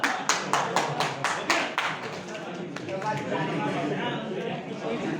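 Audience at a hotel management training session breaks into a short burst of rhythmic clapping that fades after a couple of seconds, followed by general room murmur and talking.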